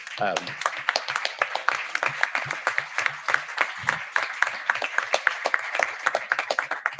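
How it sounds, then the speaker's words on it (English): An audience at an urban policy event applauds, a dense, steady patter of many hands clapping that fills the room and carries on evenly. "can we just give him a round of applause?"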